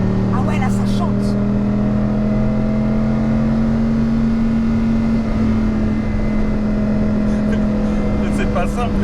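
Dodge Viper ACR Voodoo Edition, third generation, with a loud steady engine drone at sustained revs while driving on narrow winding roads, heard from inside the car; a voice speaks briefly near the start and end.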